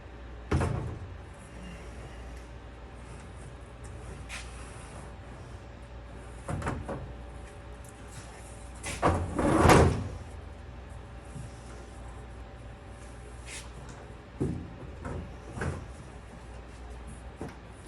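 A plastic RZR storage box is set into its tray with scattered thumps, scrapes and a louder knocking shuffle midway, close by over a steady background hum.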